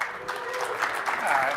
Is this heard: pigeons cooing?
no